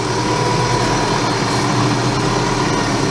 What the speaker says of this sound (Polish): Ciągnik musi się rozgrzać jeszcze powoli,